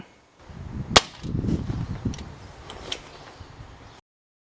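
A Webley Senior air pistol fires a .177 pellet in one sharp close crack, then handling noises follow and fade. No one speaks.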